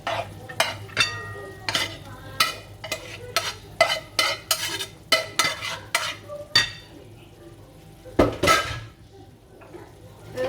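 Oil in a pot crackles faintly while a utensil scrapes through it in quick, repeated, fairly close strokes, with a brief pause and then a final burst of stirring.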